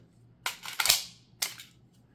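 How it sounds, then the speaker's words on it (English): A CZ 75 pistol's magazine ejects out of the grip, sharp close metallic snaps and clacks in a quick cluster followed by one more distinct clack, with no talking. "it does shoot the magazines out pretty good on both these models"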